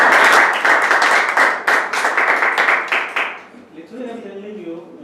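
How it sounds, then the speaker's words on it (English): Meeting audience clapping loudly for about three and a half seconds, a dense burst that then drops off abruptly as a voice begins talking. "We need to give a round of applause."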